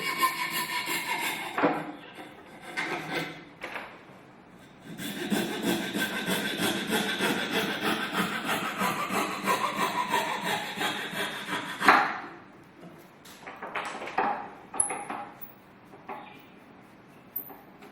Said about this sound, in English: I am cutting the waste. From inside of this elliptical shape.